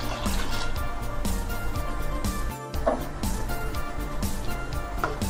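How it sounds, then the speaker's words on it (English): Three cups of warm water pour into a pot of mutton curry with potatoes, a continuous liquid splashing and filling sound with busy kitchen noise around it. "Now add 3 cups warm water."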